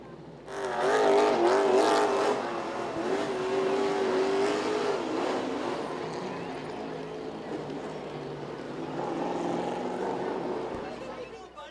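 Late model race cars at Southside Speedway roar past at the finish of a race, a loud continuous engine drone rising and falling under a track announcer's voice.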